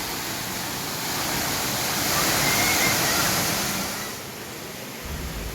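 Continuous rushing roar of Vattai waterfall in Kerala, swelling slightly louder midway then easing, a broad steady wash of falling water heard near with no talk.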